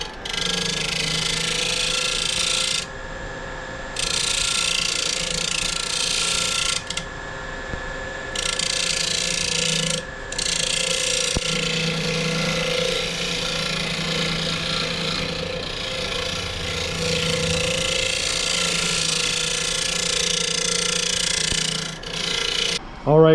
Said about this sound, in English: And then we will get to sanding